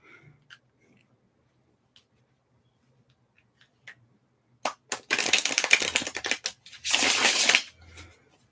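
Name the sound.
cards being shuffled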